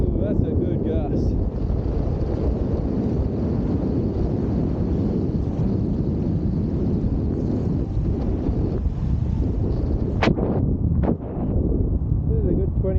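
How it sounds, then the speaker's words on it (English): Strong, roaring wind gusts buffet a microphone while wing foiling on a bay, a dense continuous rumble that pulses and eases, with a few sharp clicks near the end. "I'm just getting pulsed by these gusts. On, off, on, off."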